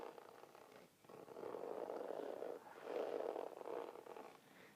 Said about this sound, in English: My dog snores really loud.